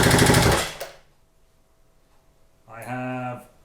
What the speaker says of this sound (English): I'm going to hold the kill button. I'm going to put the throttle wide open and crank.